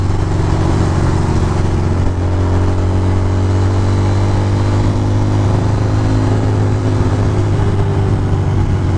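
A motorcycle rides a cold, rainy commute through traffic, a loud, close, steady engine drone with slowly shifting tones and constant wind and road noise, no talking.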